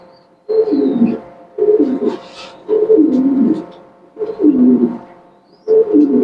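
Pigeons in a loft of red bar and grey bar birds give repeated deep cooing phrases, five rolling bursts with short pauses between, loud and close, with faint chirps above.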